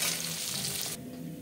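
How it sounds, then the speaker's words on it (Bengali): Dhela fish frying in hot oil in a pan, a steady close sizzle and crackle that drops noticeably in loudness partway through, with no voices. "বাকি মাছগুলো ভেজে নেব"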